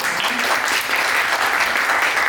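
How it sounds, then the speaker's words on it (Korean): An audience at a Korean lecture event applauds a guest onto the stage, the clapping loud, close and steady without a break. "박수로 모시도록 하겠습니다."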